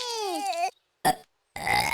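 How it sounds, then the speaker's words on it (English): A cartoon baby burp from Peppa Pig, one short, loud belch sitting in a brief gap between stretches of animated character speech. "You burped."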